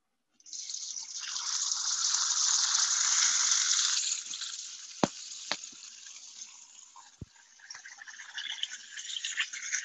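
Meat dropped into hot oil in a pan sizzles loudly and steadily for several seconds, then settles into a quieter, crackling fry with a few sharp pops and clinks.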